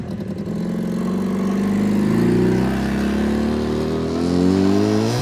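Car passing along a village street in Zagatala, near the Georgian border, a loud close engine hum with rising pitch that swells and holds, no talking.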